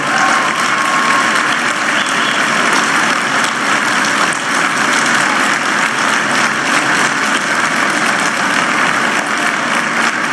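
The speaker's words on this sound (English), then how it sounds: "don't clap all my time away" A large crowd gives a speaker a loud, sustained round of applause, a dense, steady roar of clapping that holds its level throughout with no break.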